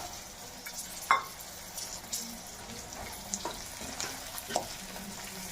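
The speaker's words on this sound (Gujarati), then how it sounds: "બરાબર તેલમાં ચેડવી લેવાની છે." Green pigeon peas frying in oil for a tomato undhiyu, a steady low sizzle with a few sharp stirring clinks standing out, close and alone.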